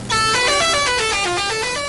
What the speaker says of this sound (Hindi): अबे तुम अपना हॉर्न बजा, जरा हॉर्न बजा, हॉर्न बजा